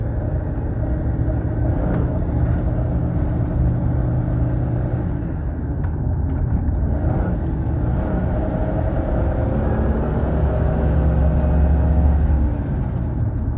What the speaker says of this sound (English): Getting ready to pull out on the road here, and we'll drive it.